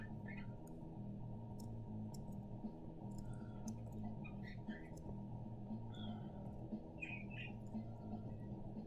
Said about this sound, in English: And that bird is going off now